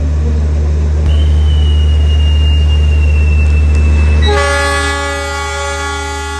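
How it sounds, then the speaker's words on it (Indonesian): A loud Taksaka passenger train rumbles steadily nearby as it departs a station; a long whistle tone sounds, then a harmonic horn blast rings out as the low drone continues. "Dan kereta Taksaka diberangkatkan kembali menuju tujuan akhir di stasiun Gambir."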